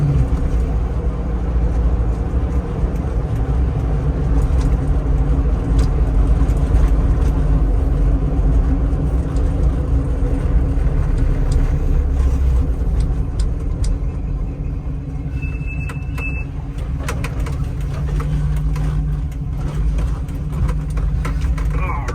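A 1974 Ford Bronco Sport's engine runs steadily while driving, a continuous low rumble close by with faint road and cabin noise throughout.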